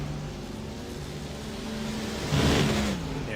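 Race cars in the iRacing simulation of the 24 Hours of Spa drone steadily with a continuous engine roar that swells briefly as one revs or passes close, with no talk.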